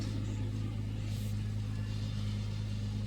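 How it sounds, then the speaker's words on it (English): A Ferrari 296 sports car engine drones steadily at a race track, a constant low mechanical hum with no talking. "This is the fastest car in our fleet."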